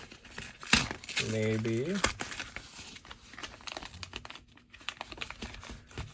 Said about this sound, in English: I'm gonna go ahead and see if I can just rip this open here